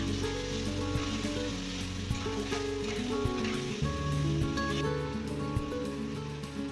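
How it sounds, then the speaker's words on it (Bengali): Marinated chicken sautés with a ground spice paste, producing a soft, continuous sizzling hiss that sits under a background of music. "চিকেন ভালো করে কষা হয়ে আসলে"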